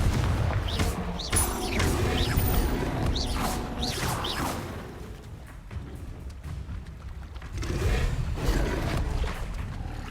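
Confringo fire-spell blasts in Hogwarts Legacy on PS5 land as several booming, whooshing bursts with crackling impacts, separated by a quieter stretch before a final loud blast.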